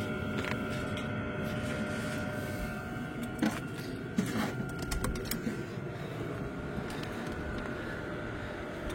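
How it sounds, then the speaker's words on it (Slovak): Home heating system in a room humming steadily and blowing air, a continuous broadband drone with low rumble that stays constant throughout, with a few faint clicks and taps on top. "Teraz vykurujem, možno, že aj počujete na videu, jak to hučí kúrenie."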